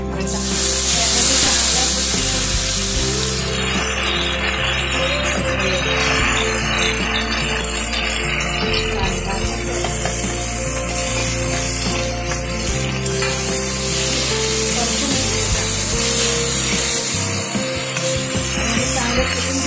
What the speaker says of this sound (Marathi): कढई तापत ठेवली, थोडं तेल टाकलं